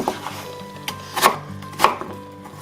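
A knife cutting a pear into cubes on a board, sharp close chops landing in an uneven rhythm, about five distinct hits with quiet pauses between them and no talk.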